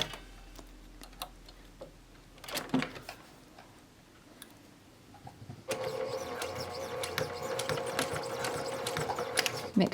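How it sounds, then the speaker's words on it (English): Sewing machine stitching an axolotl plushie, with scattered clicks and handling at first, then a steady fast mechanical whirring stitch run that fills the last four seconds. "Make sure you backstitch."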